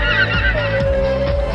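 Honking birds, goose-like, call close and loud several times in a quick run over a steady whistling tone and low background rumble. No voices.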